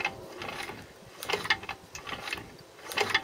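A J.A.P Model 3 engine's pulley and flywheel turn freely, giving a quiet, steady mechanical whirr with faint rhythmic ticking and rattling.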